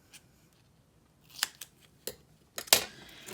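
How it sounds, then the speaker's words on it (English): Several quiet, crisp snips of scissors cutting, spaced irregularly with a quick cluster near the end. "Grab some scissors."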